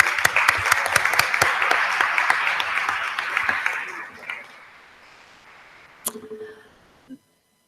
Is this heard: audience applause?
yes